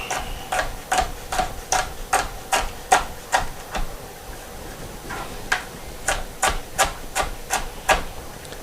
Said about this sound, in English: So I'm going to chop this right on up.